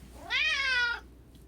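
A house cat gives one drawn-out, rising-then-falling meow as it waits for its dinner, close and clear with no talking.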